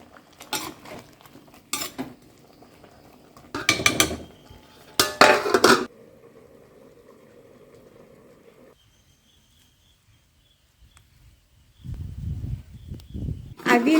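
A cooking pot of aviyal vegetables for Onam being stirred, with scraping and clinking of a spoon against the pot in short bursts, a quiet stretch, then more stirring; someone speaks at times.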